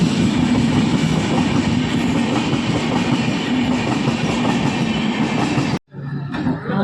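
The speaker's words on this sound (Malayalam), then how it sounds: "അങ്ങനെ ലോക്കൽ ട്രെയിനും പോയി" Local train passing close by, a loud continuous rumble with a rhythmic clatter of wheels over the rails, ending in an abrupt cut and a quieter tail.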